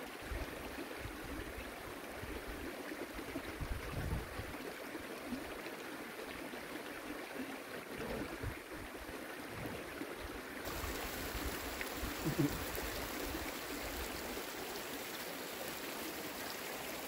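A creek flows with a constant broadband rush of water that stays steady and fairly quiet throughout, with no voices.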